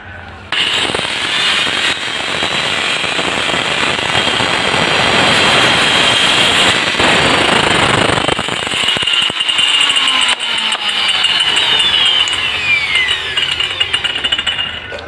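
A loud angle grinder fitted with a wood cutting blade cuts through wood, making a harsh, continuous whining roar that holds steady for about fourteen seconds after it starts.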